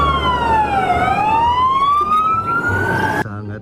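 Toy fire engine with a ladder sounds its siren, a loud close wailing tone that sweeps down and then back up, cutting off abruptly near the end.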